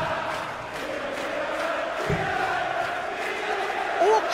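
A Premier League of Darts arena crowd, Peter Wright versus Adrian Lewis, roars and chants in a continuous, fairly distant wash of voices with rhythmic swells, a single thump midway and a brief shout near the end.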